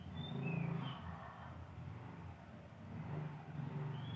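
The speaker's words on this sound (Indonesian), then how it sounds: "Ada motor lewat" A motorbike goes by on a busy residential street, a low engine rumble that swells, fades and swells again, fairly close, with faint bird chirps above it.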